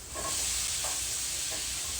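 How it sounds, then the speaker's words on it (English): Garlic shrimp frying in a pan make a steady close sizzle, with a few soft stirring scrapes breaking through at intervals. "we're just cooking the shrimp on each side, 2 minutes"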